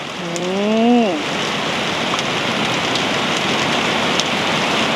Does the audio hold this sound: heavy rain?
yes